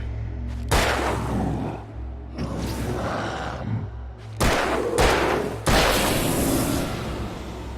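Gunfire rings out in Alan Wake, several loud, booming shots in separate bursts, each trailing off into echoing rumble before the next.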